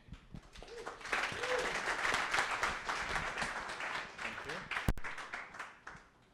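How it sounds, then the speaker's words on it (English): A meetup audience applauds a speaker as he takes the stage, a swell of clapping that builds and fades, with voices talking over it and a sharp knock near the end. "So a round of applause"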